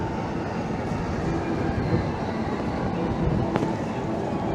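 Railway cars rolling past a level crossing during a Sunday afternoon ride near a seaside promenade, a steady broadband rumble with one sharp squeal or clack partway through, fairly close and continuous.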